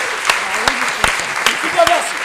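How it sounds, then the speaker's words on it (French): An improv festival audience in Paris claps for the players. The applause is dense and steady across the whole short stretch, with sharp individual claps standing out and a voice speaking underneath. "Attention, vous allez applaudir pour la rencontre numéro 1,"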